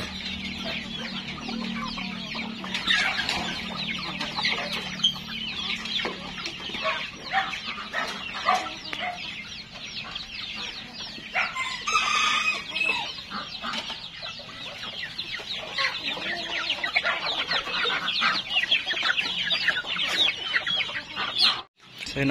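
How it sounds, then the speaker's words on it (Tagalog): Chickens cluck steadily and loudly, with a few crows mixed in, from a flock of farm fowl that includes Orpingtons and Japanese bantams, a busy barnyard chorus that carries on throughout. "ang dami na ng mga manok."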